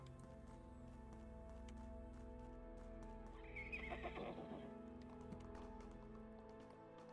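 A horse in the Vikings: Valhalla Saga video game whinnies and snorts with a clatter of hooves, heard faintly over a steady droning game soundscape with no talking.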